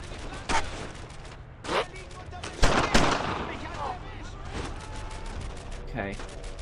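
Rifle and machine-gun fire crack repeatedly in a World War II firefight in Brothers in Arms, sharp shots near and far over a steady battle din, with shouted voices in between.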